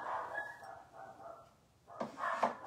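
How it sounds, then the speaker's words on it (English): Dogs bark in a house during a teacup fairy garden craft session, faint and somewhat distant, with a few muffled yips early on and a louder cluster of barks near the end. "excuse my dogs. I don't know what they're barking at."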